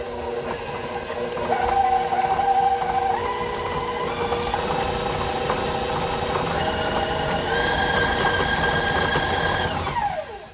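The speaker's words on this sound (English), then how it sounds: "I'm going to go ahead and turn on the mixer here just to really get those kind of whipped and creamed up a little bit." An electric mixer whips softened cream cheese for a white cheddar cranberry cheese ball, its motor whirring steadily and fairly close with slight shifts in pitch, then winding down at the very end; nobody speaks.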